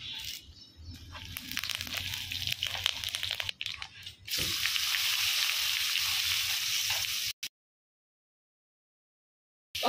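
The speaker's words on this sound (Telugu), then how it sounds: "కరేపాకు వేసుకుందాం, కొంచెం పసుపు వేసుకున్నా కూడా బాగానే ఉంటుంది" Curry leaves and garlic hit hot oil on a husk-fired stove, and a loud, dense sizzle rises after some rough clattering, holds steady for a few seconds, then cuts to silence.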